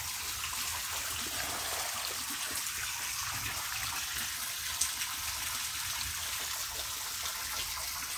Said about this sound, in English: we are pumping, adding water